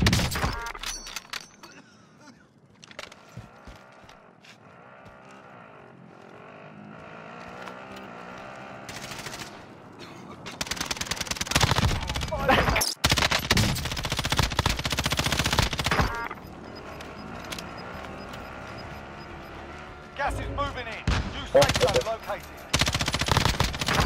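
Gunfire in Warzone: rapid automatic bursts and scattered shots, faint at first and then loud and dense in the second half, mixed with game effects.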